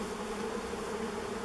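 Honeybee buzzing right beside a beekeeper at an old hive unopened for over thirty years, a close, steady, whining drone that holds without a break and has no talk over it.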